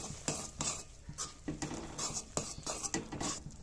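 Flour being stirred into boiling water in a pot to make roti dough, heard as close, repeated scraping and clinking of a utensil against the pot in an uneven rhythm, with a soft sizzle underneath.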